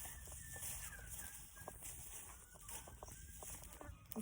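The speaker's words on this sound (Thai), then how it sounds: "ไก่กำลังออกมา" Chickens cluck now and then in a Thai garden of grape greenhouses and lemon trees, faint and scattered over a steady high insect drone and outdoor hiss.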